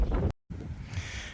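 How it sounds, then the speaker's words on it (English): Gusty wind buffets an outdoor microphone on a very windy day during a potting job, a loud low rumble that cuts out briefly and then resumes steadily. "It's windy as could be here today"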